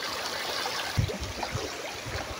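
Strong flowing water at Banahaw Water Spring in Merida, Leyte, a continuous rushing wash with a few low splashing thumps, close and steady.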